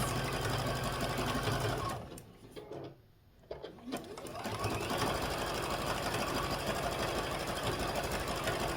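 A sewing machine stitches ribbon onto a vintage-style quilted Christmas stocking, running in a steady fast whir, pausing briefly mid-way, then resuming its continuous motorized rattle close by.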